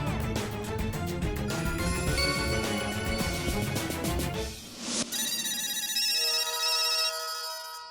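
Several phone ringtones play at once, overlapping electronic melodies, then a single bright synthetic ring tone carries on alone, loud and close.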